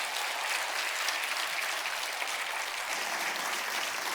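Korean church congregation in Orange County giving a pastor a big welcoming round of applause, a thick, even roar of many hands clapping that stays level throughout, with no talking over it.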